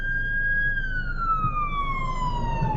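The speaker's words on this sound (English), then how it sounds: "we gotta stop because there is an ambulance coming" An ambulance siren sounding on a town street, a loud, near wail with a single long tone that slides gradually downward as the vehicle passes, over low traffic rumble.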